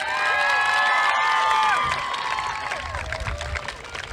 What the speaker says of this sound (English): I would like to ask you all to join me in giving Mrs. Woodward a round of applause